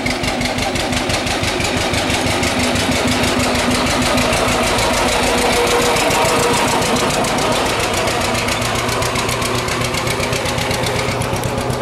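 A John Deere 60 tractor engine runs steadily close by, a loud, even, rapid two-cylinder thumping throb with a slight knock, continuing without a break and with no voices.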